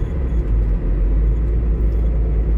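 A Ford Transit van with no third gear drives along, giving a steady, loud low-pitched engine and road rumble that holds without a break.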